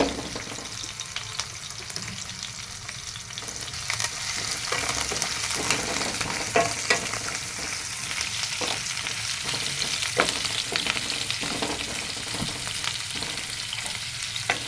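Steady sizzling of onions and curry leaves frying in hot oil for idli upma, with occasional crackles and pops and the faint scrape of stirring throughout.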